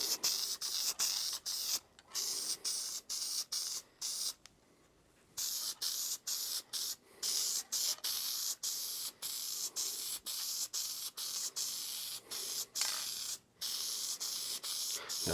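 Aerosol spray hissing steadily in repeated passes while a foam air filter on a 2020 Kawasaki KX450 dirt bike is oiled, with short pauses between the loud, close bursts.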